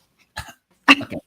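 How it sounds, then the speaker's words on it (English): A person coughs twice, close and fairly loud. A short single cough is followed by a stronger, rougher double burst, with no speech. "And you have to start coughing the day before."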